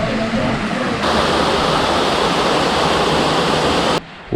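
A shallow, low-water stretch of river rushes in a steady broadband wash, loud and close, holding constant before cutting off abruptly near the end.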